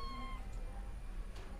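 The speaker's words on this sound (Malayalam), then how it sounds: "ഇതാണ് നമ്മൾ എടുക്കുന്ന ക്യാറ്റ്" A Persian cat gives a single clear, drawn-out meow close to the microphone, followed by quiet room sound and a faint rustle.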